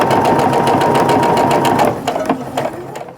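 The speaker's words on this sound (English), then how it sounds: "just go ahead and get that presser foot lined up with the line and start sewing down" Sewing machine stitching a quarter-inch seam on a quilt block, a fast steady clatter that is loud and close before slowing into a few final stitches.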